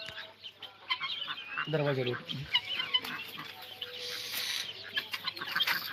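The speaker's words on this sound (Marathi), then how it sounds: "माझ्याकडं पक्ष्यांची ब्रूडिंग चालू आहे" Chickens in a poultry brooding shed holding a batch of about 425 birds, around 25 days old, cluck and chirp in a busy layered chorus with a short burst of louder calls, while a person speaks briefly.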